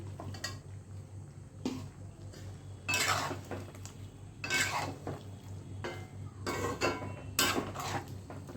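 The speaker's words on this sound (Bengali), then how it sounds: "এবার ভালো করে মশলাগুলো সয়াবিনের সাথে মাখিয়ে নিই।" A spoon works spices into soybean curry in a metal pan, with repeated scraping and clinking strokes every second or so over a low steady hum, close and moderately loud.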